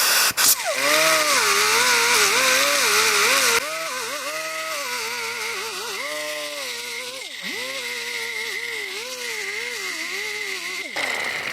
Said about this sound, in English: I'm going to use my little air-powered gasket cleaner with a pad.